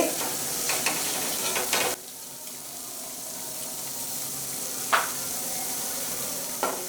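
Pieces of korameenu fish fry in oil for a long-keeping pickle, a steady moderate sizzle with a couple of louder clanks of a utensil against the pan near the start and later on, no voices.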